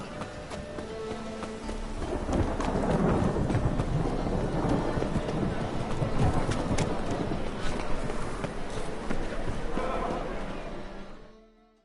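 Steady heavy rain pours throughout with deep rolling rumbles of thunder, loud and close, fading out at the very end, in the video game The Witcher 3.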